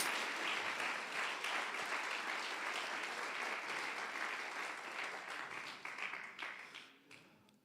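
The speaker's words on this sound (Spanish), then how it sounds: "dele un aplauso al Señor Jesús." A church congregation applauds during a Sunday school service, a steady, fairly distant wash of clapping that holds evenly and then fades out toward the end.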